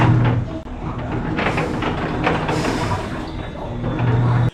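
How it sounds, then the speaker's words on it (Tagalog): A noisy washing machine churns with a loud, constant mechanical rumble and rattle, near and steady, ending abruptly. "Naglaba ako ng maingay yung washing machine"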